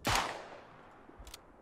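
A single Smith & Wesson revolver shot fires in the WWI shooter Tannenberg, a sharp loud crack with a quick fading tail, followed by a faint mechanical click moments later.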